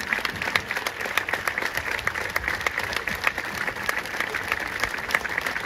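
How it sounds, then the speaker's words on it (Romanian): Audience at a Romanian summer music festival concert applauds steadily and densely, a sustained wash of clapping that stays even and fairly close throughout. "Aplauze încă o dată."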